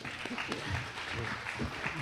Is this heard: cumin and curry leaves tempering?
no